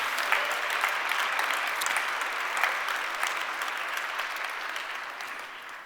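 Steady audience applause from a crowd, dense and continuous clapping holding at an even level before tapering slightly toward the end; no voices stand out.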